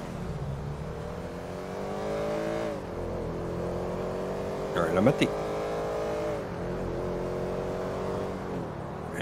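A car drives steadily in a police video game, its engine droning with gentle pitch rises as it accelerates, close and continuous, while someone talks over it.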